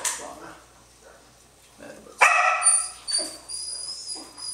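Norwegian Elkhound puppies bark and yip close by in a burst of sharp, high-pitched yelps, with a few quieter whimpers and scattered yips before and after.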